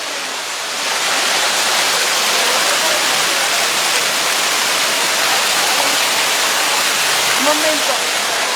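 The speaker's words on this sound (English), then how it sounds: "this is the Amenano fountain" Water from the Amenano fountain in Catania pours and splashes in a steady, loud rushing wash, continuous throughout, with a brief faint voice near the end.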